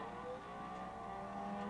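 The electric motor of a 1950s toy train runs with a faint, steady whirring buzz that holds an even pitch throughout, with no speech.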